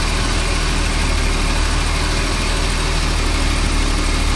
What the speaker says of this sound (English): feel that compressor laboring